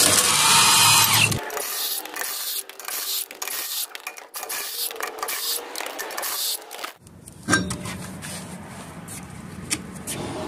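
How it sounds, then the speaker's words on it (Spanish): Socket wrench on a 7/8 socket removing lug nuts from a trailer wheel, a steady loud mechanical whir with rattling clicks, continuing throughout with a brief pause near the middle and no talking. "Enseguida vamos a quitar las tuercas y para eso vamos a ocupar un dado"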